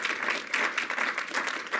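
An audience claps steadily and fairly loudly at a conservative policy summit, welcoming a speaker to the stage, with no talk over it.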